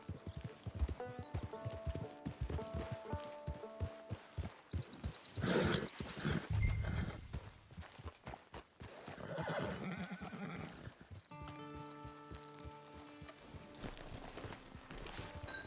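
A horse in the Red Dead Redemption 2 video game clip-clops in a steady rhythm of hooves, then whinnies loudly, with game music and ambient sound underneath.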